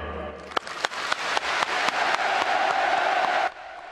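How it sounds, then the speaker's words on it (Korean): A crowd gives sustained applause after a speech, a dense wash of clapping with a few sharp accents that swells and then cuts off abruptly. "김정은 국무위원장께 아낌없는 찬사와 박수를 보냅니다"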